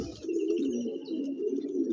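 Many pigeons coo together in a crowded loft, a dense, close, continuous murmur of overlapping soft calls with no voices.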